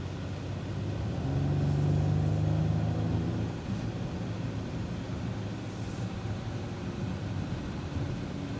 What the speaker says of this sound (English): I like how the exhaust just filters in.